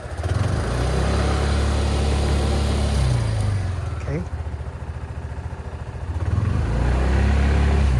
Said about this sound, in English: even if you rev it up, there's not much noise at all to be heard